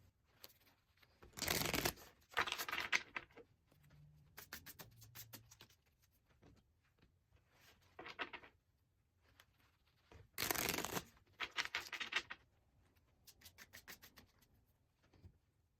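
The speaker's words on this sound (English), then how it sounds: "Let's get these cards shuffled up so we can see what our guidance is." Tarot cards shuffled by hand in a few separate bursts of riffling and sliding, close and fairly quiet, with soft rubbing between the bursts and no talking.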